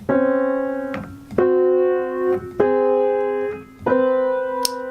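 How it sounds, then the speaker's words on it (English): Four sustained, dissonant tones in a row, each struck sharply and held about a second, sounding harsh and clashing, with no voices. "The categories I will be using are very tense intervals are orange,"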